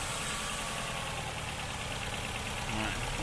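A Ford Fiesta engine idles with a misfiring ignition coil, a steady close mechanical drone with uneven low-end pulsing that carries on without a break.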